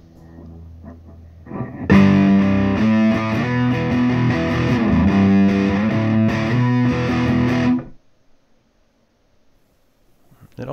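Electric guitar played through a Boss Katana MK1 amp on the crunch channel at full gain, heavily distorted chords ringing loud and sustained for several seconds before stopping abruptly into near silence.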